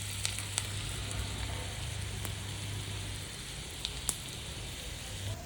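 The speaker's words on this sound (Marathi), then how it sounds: "आता लसणाची फोडणी द्यायची आहे आपल्याला वरून." Garlic tempering sizzling in hot oil for dhaba-style palak paneer, a steady close frying hiss with a few sharp crackles and pops, heard alone without talk.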